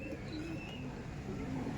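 A Punjabi Malbai pigeon gives soft, low cooing notes, fairly quiet and close, repeated over a light background hiss with no talking.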